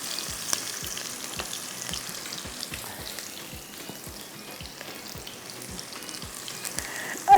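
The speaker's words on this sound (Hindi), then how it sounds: "ये रहे हरी मिर्च, प्याज, थोड़ा सा आपने इसको फ्राई करना है।" Green chillies and onion sizzle in a pan over steady heat, a soft continuous frying hiss with faint rhythmic stirring taps against the pan.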